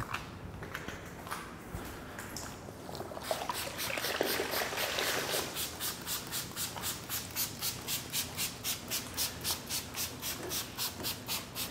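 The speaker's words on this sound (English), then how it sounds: "with no pressure, moving the sponge along the surface." Wet rubbing and squeaking as a sponge is drawn across a slick car surface during a rinseless wash, settling into a regular back-and-forth rhythm, close and fairly quiet.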